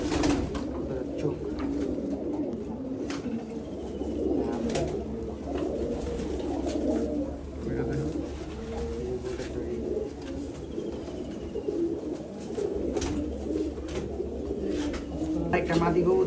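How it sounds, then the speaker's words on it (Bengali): A domestic pigeon coos nearby in repeated low, throaty calls, with a few soft chirps around it and a voice talking quietly alongside. "মাশাআল্লাহ অনেক সুন্দর একটা কবুতর"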